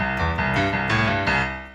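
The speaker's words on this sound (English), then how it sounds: "The bass line is the same almost the whole way throughout after the introduction" Piano plays the repeating boogie bass line of a song, a steady rhythmic pattern of low octave notes with sustained upper harmonics, close and clear with no voices.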